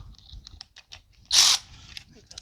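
A wrench or ratchet clicks briefly and sharply while a ground bolt comes off in the engine bay of a 2006 Subaru B9 Tribeca; a few faint mechanical taps come before and after it.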